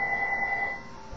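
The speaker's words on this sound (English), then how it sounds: "sorry about the phone" A telephone rings with a steady electronic warble for under a second, then cuts off, heard in a quiet room.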